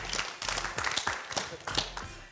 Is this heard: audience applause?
yes